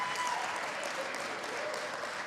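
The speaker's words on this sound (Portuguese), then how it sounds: "As mulheres podem aplaudir à vontade." Women in a church audience applaud steadily, a dense, even wash of clapping that fills the whole stretch at a moderate distance with no clear voices over it.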